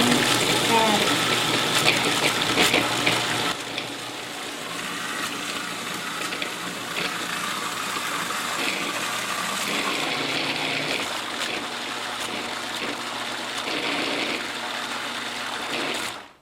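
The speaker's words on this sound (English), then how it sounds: "now we will puree some lasagna" Food processor pureeing lasagna with added tomato sauce, a loud steady whirring motor with churning, slightly lower after the first few seconds, running continuously and stopping abruptly at the end.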